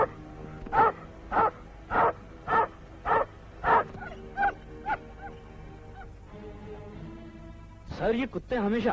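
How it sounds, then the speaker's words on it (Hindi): Dogs bark in a small town at night, a regular series of about eight sharp, loud barks at roughly half-second spacing, followed by quieter whining and a final flurry of rough, close barking. "सर, ये कुत्ते हमेशा आप ही को देखकर क्यों भौंकते हैं?"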